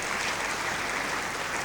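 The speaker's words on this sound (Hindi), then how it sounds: "ताली तो बजाओ अपने लिए" An audience at a spiritual class applauds itself, a dense, continuous wash of many hands clapping at once from close by, with no talking.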